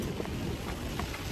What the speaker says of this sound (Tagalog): Oh, lakas ng ano, ng ulan.